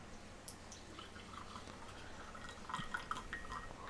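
Coffee pours from a pour-over pot into a serving cup as a soft, faint trickle of liquid that grows a little louder and splashier toward the end.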